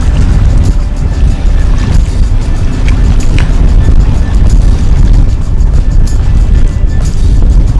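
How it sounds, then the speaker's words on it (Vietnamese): A barge on a river at a busy confluence, passing beneath a high bridge: loud, continuous low engine rumble mixed with heavy wind buffeting on the microphone. "Đấy, một xà lan. Và nó đang lấy đầu và chuẩn bị chui xuống cái gầm cầu kia."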